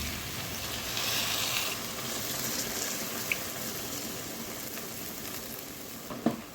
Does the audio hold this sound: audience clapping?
no